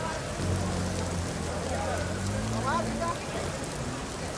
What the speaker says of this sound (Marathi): राज्यात मोठ्या प्रमाणात मुसळधार पाऊस पडतोय